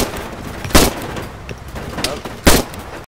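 Two loud, sharp gunshots about 1.7 seconds apart ring out in an Arma 3 Exile firefight, with fainter shots and battlefield noise filling the gaps between them.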